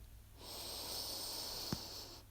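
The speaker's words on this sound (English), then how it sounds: "Breathing in" A single steady inhale during a slow yoga flow, airy and soft, lasting under two seconds with a small snort-like catch near the end.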